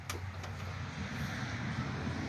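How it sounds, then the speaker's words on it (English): A car rolls past nearby, a low broadband whoosh that holds steady through the short stretch, with a couple of faint clicks at the start. "You're going to hear noises, the car's going by."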